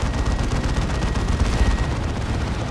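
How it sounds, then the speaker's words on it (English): A plasma cannon fires in a Warhammer 40k Dawn of War 2 battle, a loud, rumbling blast heard within a dense wash of continuous battlefield gunfire and explosions. "Plasma Cannon with a decent shot."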